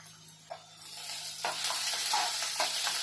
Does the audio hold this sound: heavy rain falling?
no